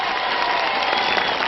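A large crowd in the town hall square of Valence applauds in a dense, continuous wash of clapping, loud and sustained over a brief stretch.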